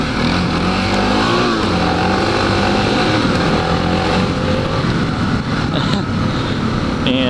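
A four-stroke motorcycle is ridden outdoors, its engine droning steadily and loudly close to the listener, with changes in pitch as it shifts and accelerates.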